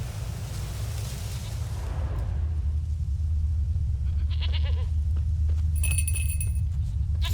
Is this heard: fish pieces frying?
no